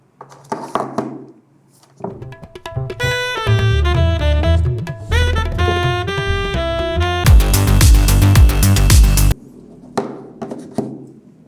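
A song plays through 1More Omthing AirFree Pods wireless earbuds, with melodic tones and a heavy bass section, loud and full, framed by brief thumps of handling at the start and end.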